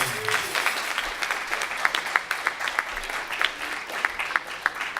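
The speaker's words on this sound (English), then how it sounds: "Give them a round of applause for Mystic Wind." A live audience claps for the Mystic Wind dance group at a symposium, with steady, moderately loud applause running throughout and a few individual claps standing out.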